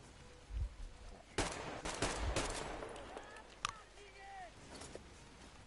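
Gunfire in the post-apocalyptic shooter Metro Exodus: a few sharp, fairly quiet bursts of shots spaced across a few seconds, with other game noises and a speaking voice in between.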